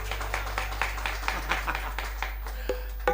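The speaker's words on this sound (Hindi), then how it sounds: "जोरदार तालियां शफी भाई के लिए।" At a qawwali concert in Lens Hall, Cape Town, the audience claps in a faint, steady, rhythmic run of individual claps, with no voices.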